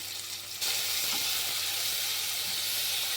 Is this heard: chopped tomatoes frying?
yes